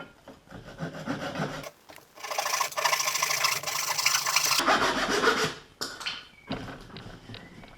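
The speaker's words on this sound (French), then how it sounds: "La scie japonaise, ça donne un résultat à chaque fois." Steady back-and-forth rasping of a fine-toothed Japanese hand saw cutting wood, continuous strokes up close, with a brief pause and a few final strokes.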